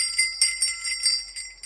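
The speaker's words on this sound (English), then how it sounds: "There's some jingle bells." Small bells jingle inside an old Airstream RV trailer being looked over, a bright metallic tinkling that repeats in light, uneven shakes for under two seconds, close by with no voices.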